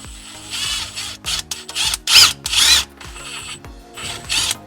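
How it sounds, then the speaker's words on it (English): A power drill bores a hole into a plastic drain pipe under a sink for a reverse osmosis system, running in several short, loud, whining bursts with brief stops between them. "I'm going to drill right there."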